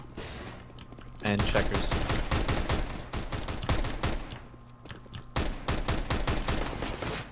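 Rapid bursts of video game gunfire from a Counter-Strike: Global Offensive match, with dense clusters of sharp shots and a brief pause midway, heard under excited player voices.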